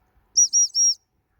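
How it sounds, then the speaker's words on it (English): Three short, shrill blasts on a dog whistle, sent out to call a springer spaniel back, come in quick succession in otherwise quiet open air. "so I'll give her the 3-blow whistle to come back"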